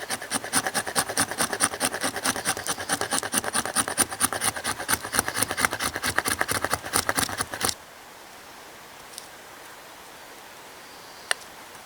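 A Benchmade Arvensis blade scrapes resinous fat wood in steady, rapid rasping strokes for about eight seconds, close and loud, then stops, leaving quiet background with a couple of faint clicks.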